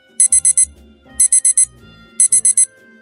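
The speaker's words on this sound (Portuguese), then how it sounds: "Acordei com o som infernal do celular apitando no meu ouvido." A mobile phone alarm going off by the sleeper's ear, sounding in three repeated groups of four sharp, high beeps, loud and close, with no voices.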